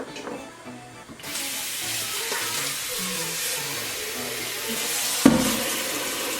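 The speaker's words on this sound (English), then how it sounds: "So I'm just gonna fill up with water a little bit over half." Tap water runs steadily into a cooking pot, filling it a little over halfway to boil chicken for green pozole; a continuous close hiss and splash with no talk, ending in a brief clank.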